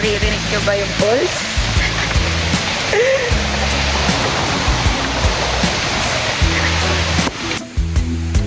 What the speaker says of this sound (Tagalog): So, naririnig nyo ba yung falls?